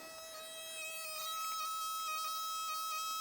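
A 1993 Proton 1.5 SE Aeroback warning chime for the key left in the ignition or lights left on, a steady electronic tone repeating continuously and fairly quietly, with no talk over it.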